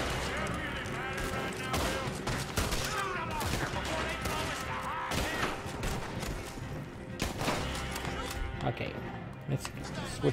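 Gunfire from a gun fired on horseback in the video game Red Dead Redemption 2, scattered shots amid hoofbeats and busy game noise, with someone talking over it.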